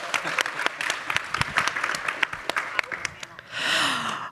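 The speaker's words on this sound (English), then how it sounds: "Can we please give them a round of applause to energize the room?" Applause from a conference audience for a closing panel on Indiana's energy future, scattered sharp claps from a moderate crowd thinning out, followed by a short burst of breathy noise at the end.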